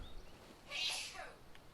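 A character in Skyrim Special Edition sneezes once, a short bright burst rising out of quiet game ambience in the wilderness, moderately faint and alone.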